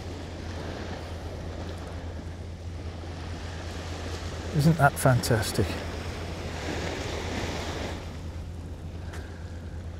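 Waves washing onto a beach on the Cromarty Firth at Cromarty on the Black Isle, heard as a steady, moderately loud wash blended with wind noise, with someone briefly speaking partway through.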